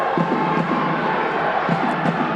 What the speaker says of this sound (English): This crowd is loud tonight